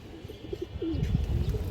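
A female pigeon coos softly, a few low warbling coos rising in the second half, with faint chirps and slight background noise.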